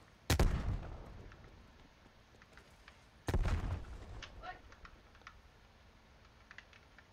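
Two sharp, loud blasts about three seconds apart, from thrown grenades exploding in the video game Call of Duty Cold War, with keyboard clatter between them and faint crackles after.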